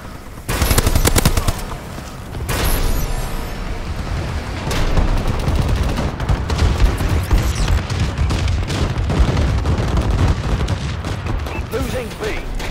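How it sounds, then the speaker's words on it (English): Dense video-game combat in a Call of Duty style match, with continuous rapid gunfire and booming explosions from a friendly bombing run, loud and layered throughout with sharp bursts near the start. "Friendly bombing run clearing the way."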